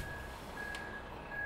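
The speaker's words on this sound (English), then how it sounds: "let's stand by for the trucks. They should be pulling up any minute" Reversing beeps from a concrete truck pulling up at a house foundation site, a steady repeating tone heard at a distance over low background rumble.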